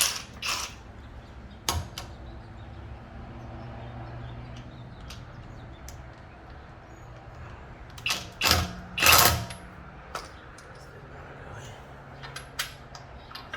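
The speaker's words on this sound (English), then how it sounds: "I'm using a 21mm impact socket wrench. Get the special key off." An impact socket wrench with a 21mm socket works a locking lug key on a Tesla Model Y wheel, giving short mechanical creaks and ratcheting bursts over a low hum, with a louder cluster of clicks near the end.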